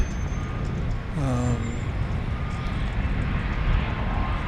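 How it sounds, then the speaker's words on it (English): A Cessna Citation Longitude business jet arriving at Dallas Love Field makes a continuous mid-level engine rumble, and a brief gliding whistle-like tone rises and falls partway through. "Got a Cessna Citation Longitude coming in from St. Louis here presently."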